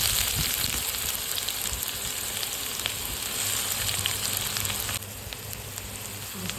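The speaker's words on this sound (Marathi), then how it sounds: "तर कढईमध्ये 2 चम्मच तेल घेतलेलं आहे. तर कांदा टाकून घेऊया आपण." Chopped onion sizzles in two spoons of hot oil in a kadhai for methi bhaji, a dense, continuous frying hiss that stays close and steady throughout with no talk.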